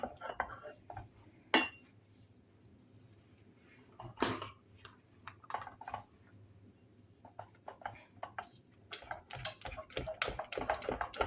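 A spoon clinks and scrapes against a bowl while stirring a filling for a Malaga cake, with a few sharp taps and a run of quick light ticks near the end, close and fairly quiet.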